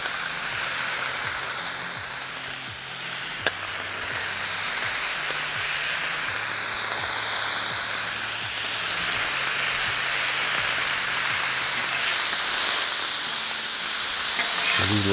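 Bacon sizzling under presses on a Blackstone griddle for a breakfast cook, with a dense, steady frying hiss and crackle holding throughout, close and fairly loud.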